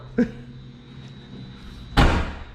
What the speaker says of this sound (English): Put the window down, close the door.